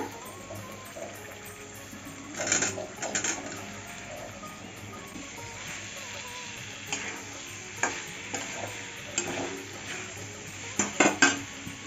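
Green jackfruit goes into spiced oil in a pan for a vegetarian Bengali echor dish, bringing a steady low sizzle with scattered clinks and scrapes of stirring. Bursts of scraping come up near the end.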